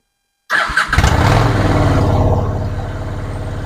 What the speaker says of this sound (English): we'll turn the gas on, we'll pull the choke out, we'll turn the key on, contact